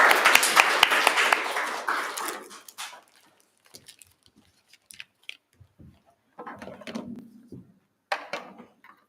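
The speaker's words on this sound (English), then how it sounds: "Can we have a round of applause for Tarun, please?" Audience applause at a tech meet-up: a dense burst of clapping for about three seconds, then scattered, fading claps and small room noises.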